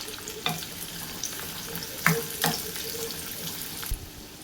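Chopped garlic, ginger and green chilli sauté in hot oil in a pan while fresh turmeric pickle is being made. The steady close sizzle carries occasional stirring scrapes and clinks, with no talking.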